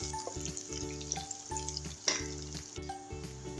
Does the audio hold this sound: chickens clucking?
no